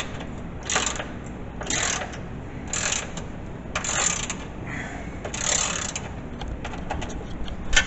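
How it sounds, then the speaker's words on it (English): Ratchet wrench tightening the four mounting bolts on a snow plow for a Kawasaki Mule SC XC utility vehicle, a run of rapid clicking bursts in an irregular rhythm, close and moderately loud, with no talk. "Now I just gotta put them four bolts on."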